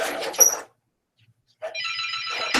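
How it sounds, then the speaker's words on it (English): A telephone rings inside a shop, a bright warbling electronic ring that starts after a short silence and holds steady, preceded by a brief burst of noise. "Oh, the phone is ringing."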